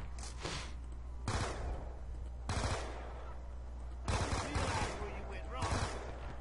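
Submachine gun fire in Black Ops II on the Die Rise zombies map, coming as five short, sharp bursts spaced a second or so apart over a steady low background hum.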